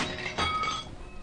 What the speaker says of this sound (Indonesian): ia mendengarkan suara foto terjatuh